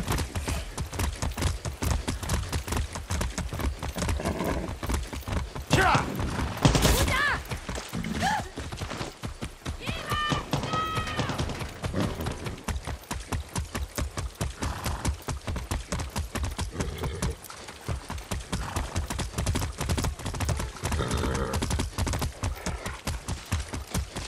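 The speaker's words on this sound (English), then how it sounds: "That's a good horse." Hooves pound in a fast, steady galloping rhythm as a horse runs in the video game Far Cry 6, close and continuous, with brief whinnies and other game noise mixed in.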